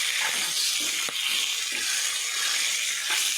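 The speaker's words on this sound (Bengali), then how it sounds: "তো এইভাবে মশলা দিয়ে মাহায়ে এগুলা ভেজে নিচ্ছি" Vegetables frying with spices in a hot pan give a steady bright sizzle, close and continuous, with a faint stir or clink partway through.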